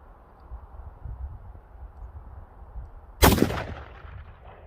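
A single loud Mosin Nagant rifle shot cracks out after a few seconds of quiet outdoor rumble, followed by a short rolling echo that fades away.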